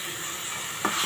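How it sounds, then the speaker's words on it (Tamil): Tomatoes sautéing in a hot pan for crab curry, a steady close sizzle with a brief scrape of stirring near the end. "3 தக்காளி போட்டு நல்லா வணக்குங்க."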